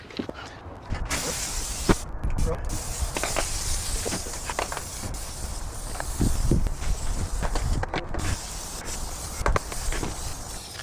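A hand pump sprayer hisses in repeated bursts while washing a BMW motorcycle, mixed with rubbing and light shuffling sounds nearby.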